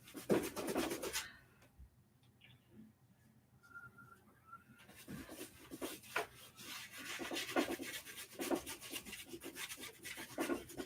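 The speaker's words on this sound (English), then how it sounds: "Scrub, scrub, scrub." Scrubbing strokes of a drawing tool on paper while sketching a birch tree grove, a dense run of close, rhythmic rasping rubs with a quiet pause partway through before the strokes resume steadily.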